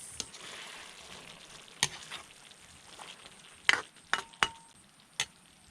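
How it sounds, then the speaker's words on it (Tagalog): Bitter gourd stirred into Bicol Express frying in a pan, a soft steady sizzle with a few sharp clinks of utensil against the pan. "maglalagay ako mga kabukits ng ampalaya dito sa aking Bicol Express"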